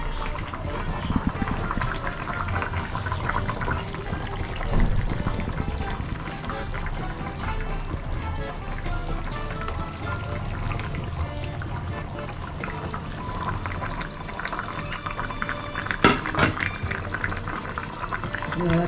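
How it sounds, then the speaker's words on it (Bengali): Katla fish pieces go into a simmering Bengali fish curry broth, giving a steady bubbling and sizzling wash with soft liquid splashes and trickles close by. "মাছ দিয়ে দিচ্ছি ঝোলে।"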